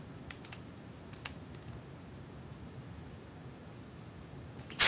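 Short bursts of computer keyboard keystrokes click crisply, a few quick presses near the start and one more at the end, over a faint steady background hiss.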